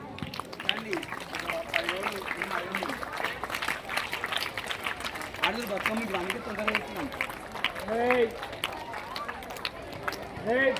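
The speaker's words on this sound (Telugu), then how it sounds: "Come on, big round of applause. That's great. That's great. Keep clapping." A school audience claps at a Bathukamma celebration, faint, uneven clapping mixed with crowd noise while someone speaks over a microphone.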